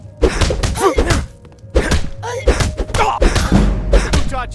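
Bare-fisted punches in a Skyrim brawl land as a string of heavy, close thuds in uneven bursts, mixed with grunting and shouting voices.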